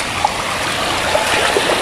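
Rising floodwater pouring through a piggery farm, a loud, continuous rushing and trickling stream close by, steady throughout with no pauses.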